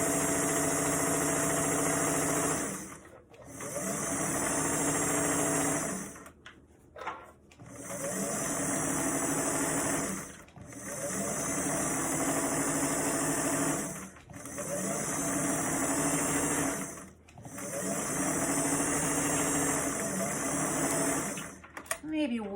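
A sewing machine stitches a bucket hat with red thread, running in long steady whirring bursts separated by brief pauses, loud and close, with a voice talking over it.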